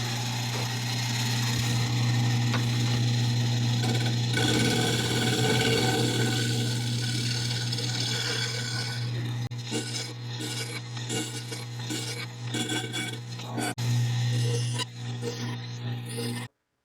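A turning tool scrapes and rubs across a spinning burl and pinecone hybrid bowl on a humming lathe, a continuous rasping cut over a steady motor drone, growing choppier in the later seconds before stopping.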